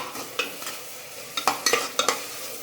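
Tomatoes being stirred into a pot of mutton biryani gravy, with a few sharp spoon scrapes and clinks against the pot over a soft cooking hiss, loudest in a quick cluster near the end.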